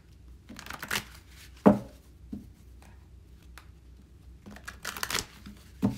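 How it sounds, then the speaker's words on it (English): Tarot cards being shuffled by hand during a monthly reading, with soft papery riffles and slides coming in several short bursts and brief pauses, close and fairly quiet, with no talking. "I feel like we need to pull a couple more cards for you"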